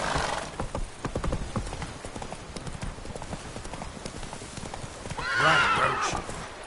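In The Witcher 3, the horse Roach clip-clops along in a steady hoofbeat rhythm, then lets out a loud neigh near the end, close and clear with no talking.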